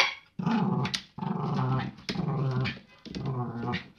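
A poodle growls angrily at a bucket while trying to reach its bone, giving four long, loud, close growling snarls with brief pauses between them.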